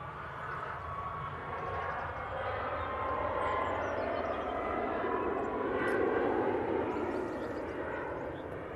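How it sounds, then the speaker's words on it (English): A Ryanair airliner takes off at Manchester Airport, its jet engines a broad, steady roar swelling slightly toward the middle and holding strong at a moderate distance, with no voices. "This one's another Ryanair up early"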